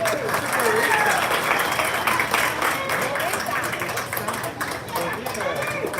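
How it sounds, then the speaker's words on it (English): An audience at a junior livestock cattle show in LaSalle County breaks into sustained, dense applause, steady and fairly loud throughout, with crowd murmur underneath. "Put your hands together for another nice clap."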